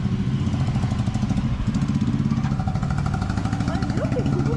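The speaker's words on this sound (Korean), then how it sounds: "이렇게 그분이 오토바이를 타고" A motorcycle engine chugs loudly and steadily nearby on a street in Jodhpur, India, its rapid pulsing drone running throughout with voices over it.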